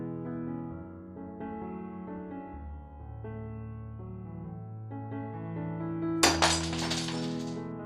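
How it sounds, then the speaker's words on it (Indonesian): A ceramic bowl drops and shatters in a kitchen, a sudden bright crash near the end that rings out over a steady bed of soft music. "Mangkok yang dipegang Acia langsung jatuh dan pecah"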